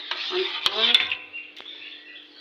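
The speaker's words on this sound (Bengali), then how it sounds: "এখন একটু ঢাকা দিয়ে দেবো" A lid set onto a pot of rice cooking on the stove gives a few sharp metallic clinks and clatters, close and moderately loud, followed by quieter scraping.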